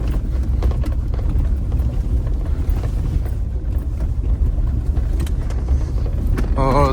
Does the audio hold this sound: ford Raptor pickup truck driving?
yes